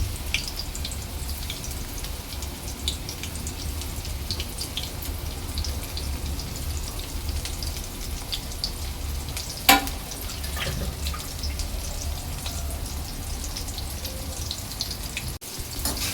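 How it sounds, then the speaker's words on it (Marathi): Soybeans frying in hot oil in a home kitchen for a vegetable fried rice, a steady low bubbling crackle running throughout with a single sharp clink partway through and no talking. "यामध्ये मी आपले सोयाबीन तळून घ्यायचे आहे।"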